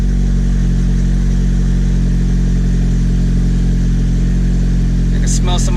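A Honda Civic FK7 sport hatchback fitted with a new 27WON turbo idles steadily nearby, giving a loud, constant engine drone throughout with a few faint clicks near the end.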